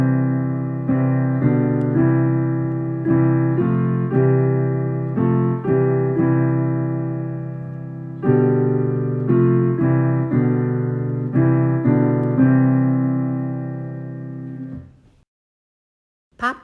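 A sequence of sustained chords plays the progression of the song "Long, Long Ago" at an even, unhurried pace, each chord struck and held, close and clear with no voices, before a final chord fades to silence.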